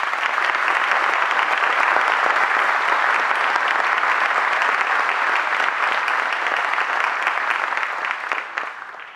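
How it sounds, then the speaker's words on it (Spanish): A large audience at a forestry awards ceremony applauds forest firefighters, sustained dense clapping at a steady level that fades slightly at the end, with no talk over it. "un tremendo aplauso a los brigadistas forestales de nuestro país"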